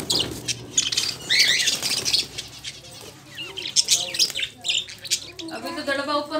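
Domestic pigeons, chickens and parrots kept in a rooftop coop call together in a busy mix of chirps, squawks and wing flaps, close and fairly loud, with brief human voices mixed in.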